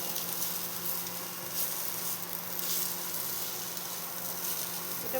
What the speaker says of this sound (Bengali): এবার আমি এর মধ্যে চিনেবাদামটা দিয়ে দেবো। ভালো মতো মিলিয়ে নেব।